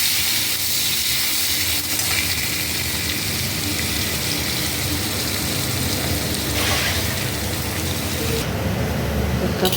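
Sliced potatoes sizzle in a hot pan with a continuous close hiss and crackle, the frying noise staying dense and even from start to finish, with a brief brighter surge near the end.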